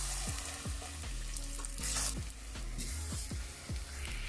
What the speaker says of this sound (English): let's fry up some plantain